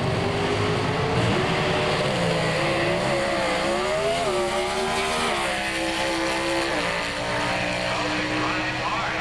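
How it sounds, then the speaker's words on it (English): A drag race car runs hard down the quarter-mile at the 1990 Spring Nationals Comp qualifying, a loud sustained engine roar with shifting pitch lasting throughout, with crowd and announcer noise blended underneath. "Running hard on the top end of the race course, goes through it"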